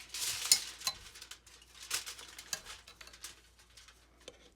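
Pork chop meat and onions frying in pan juices, with irregular clicks and scrapes of stirring over a soft crackling sizzle, bursts rising and falling, close by with no voices.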